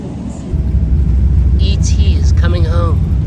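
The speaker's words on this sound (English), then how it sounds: "at least we're on a plane" Low steady rumble of an airplane cabin during a flight to Bologna, Italy, a constant droning hum close around with people talking over it.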